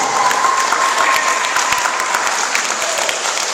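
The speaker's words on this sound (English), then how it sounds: "Let's give him a big round of applause!" School assembly audience clapping loudly and steadily, a thick burst of applause from a room full of children that holds throughout with only slight swells.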